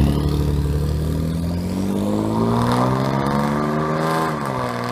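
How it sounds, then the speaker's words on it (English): A 2014 SHO with a Corsa cat-back exhaust and Stainless Works downpipes gives a loud, continuous raspy drone under normal acceleration, its pitch climbing steadily and then dipping near the end, with no voices. "This means it's nearly impossible to drive without inducing the rasp noise."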